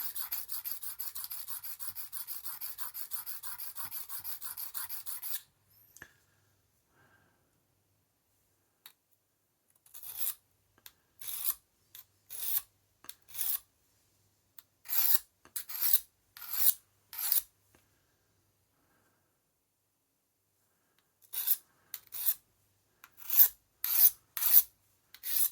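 Sharpening the blade of an old Ka-Bar knife during restoration: a continuous raspy grinding run gives way to short, separate scraping strokes in quick clusters with quiet gaps, close and crisp.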